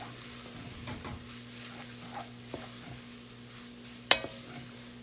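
Spices for a three-bean chili toast in a pan with a soft, steady sizzle. The sound stays quiet and close over a low hum, with a few faint stirring scrapes and one sharp clink near the end.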